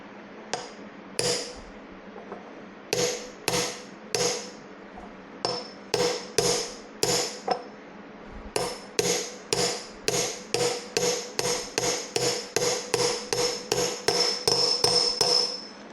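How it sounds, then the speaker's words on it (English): A small hammer taps a new wheel bearing into a Honda C50 hub with sharp metallic strikes, sparse at first and then a fast even run, close and loud with no talk. "I have the tiniest of hammers."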